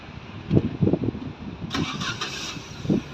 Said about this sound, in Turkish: Çalıştır şimdi arabayı.